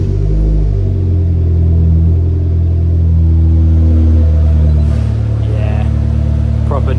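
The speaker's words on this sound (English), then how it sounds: "Let's have a start up in the workshop" A car engine starts and rumbles steadily at close range in a workshop, a low continuous idle with a slight change in pitch partway through.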